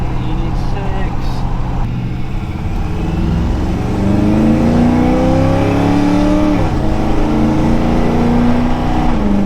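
The engine of a 1979 Chevy K10 truck fitted with Holley Sniper EFI 2 fuel injection revs up and down close by, its pitch climbing and dropping in several swells, with voices talking.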